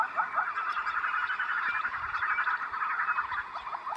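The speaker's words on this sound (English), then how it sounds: "You can actually hear the yellow-billed hornbills calling in the background there." Repeated rapid clucking, chattering calls of yellow-billed hornbills in the distance, forming a continuous rhythmic chorus against quiet background noise.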